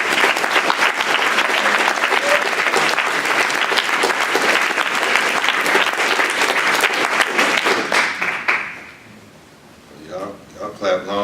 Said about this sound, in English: let's applaud one more time for Ishmael who came up